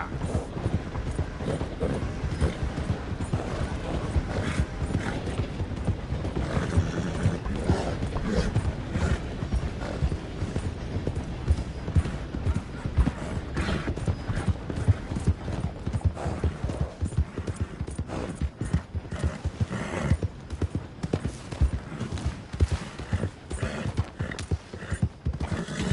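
Continuous clip-clop of horse hooves in Red Dead Redemption 2, with occasional whinnies and creaking mechanical sounds, busy and loud throughout with no pauses.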